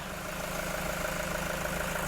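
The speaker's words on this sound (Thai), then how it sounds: "ตอนนี้เราสตาร์ทเครื่องยนต์อยู่นะคะคุณลูกค้าฟังเสียงเครื่องยนต์ได้เลยค่ะ" A Toyota Commuter van's 3.0 diesel engine idles in its bay: a low, steady, even rumble heard from close by, fairly quiet and without talk.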